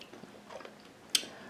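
A single close bite into a loaded taco burrito from Taco Bell stuffed with meat, cheese, lettuce, sour cream and crunchy bits, with soft, faint chewing sounds and one sharper crunch near the end.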